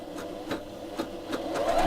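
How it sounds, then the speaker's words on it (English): A needle felting machine runs at a fast pace, its needles punching rapidly up and down in a steady mechanical chatter that rises slightly as it goes, close and fairly quiet, with no talking. "you need to have the machine running at quite a fast pace so the needles are going up and down"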